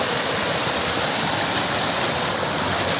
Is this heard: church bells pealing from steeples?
no